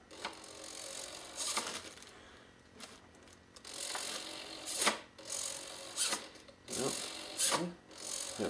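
An RC servo on a 30-inch profile biplane buzzes in short bursts as it drives the ailerons, several brief whirring movements spaced a second or so apart, faint and close.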